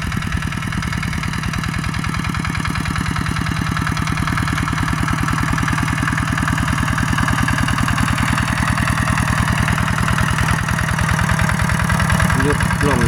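A farm tractor engine idles steadily in a chili field, a loud, close, even mechanical chug that holds without change for the whole stretch.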